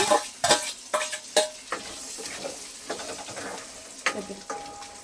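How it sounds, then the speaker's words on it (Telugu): Chicken pieces are dropped into hot pickle masala and stirred, giving soft sizzling and repeated spoon-against-pan clinks in uneven bursts, heard close and fairly quiet. "ఇప్పుడు చికెన్ ముక్కలను అయితే దాంట్లో వేసేస్తున్నానండి"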